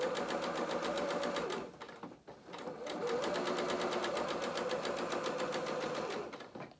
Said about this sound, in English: We don't sew over pins, so it's not good for our machines.